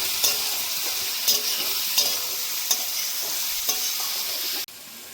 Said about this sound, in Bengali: এটা দিয়ে কিছুক্ষণ ভেজে নেব।